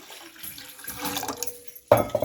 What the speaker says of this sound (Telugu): నేనైతే గ్లాస్ పిండికి 2 గ్లాసెస్ వాటర్ అయితే యాడ్ చేస్తున్నాను.